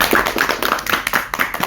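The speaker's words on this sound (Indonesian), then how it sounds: "Keren, tepuk tangan." Young children clap their hands together at a storytelling podcast, about eight bright, fairly even claps in a loose rhythm, close and moderately loud with no talk over them.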